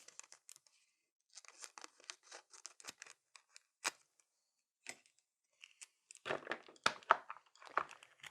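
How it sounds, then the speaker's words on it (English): Scissors snip through thin nail art foil in a quiet room, a series of short close crisp cuts and crinkles, sparse at first and then denser and louder toward the end. "So I'm just going to cut some piece of the foil and another piece."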